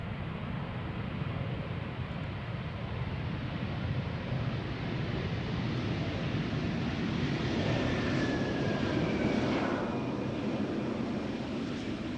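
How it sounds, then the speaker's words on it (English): A five-year-old passenger airplane arriving at Schiphol Airport after a flight from Warsaw, heard as a continuous distant engine roar that swells slightly toward the end, with wind rushing over the microphone. "this airplane has been flying for 1 hour and 43 minutes to get here from Warsaw"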